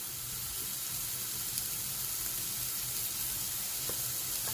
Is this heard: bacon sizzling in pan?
yes